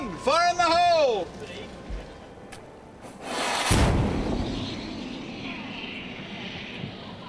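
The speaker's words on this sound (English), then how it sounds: "We celebrate by firing a cannon, loaded with a real cannonball." A ship's cannon loaded with a real cannonball fires aboard the Endeavour replica, one sharp heavy blast that rolls into a long fading rumble, following shouted commands and talk.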